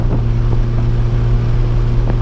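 A Volkswagen Gol 1.6 engine drones loud and close with a steady low hum and buzzing engine tones, held at a fairly constant pitch across the moment rather than sweeping upward.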